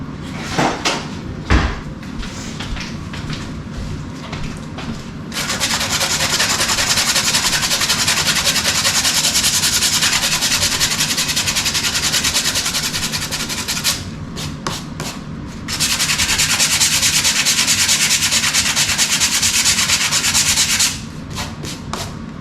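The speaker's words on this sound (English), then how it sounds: "take a little bit of sandpaper and clean up that rough edge if you want to" Sandpaper rubs back and forth over a rough edge in two long, loud, steady runs of harsh scratching, each lasting several seconds, separated by brief quieter handling sounds.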